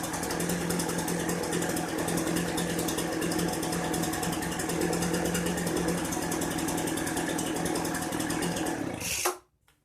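A Poulan BVM 200VS leaf blower's small two-stroke engine runs steadily after a cold start, a loud, continuous buzzing drone close by that cuts off abruptly near the end.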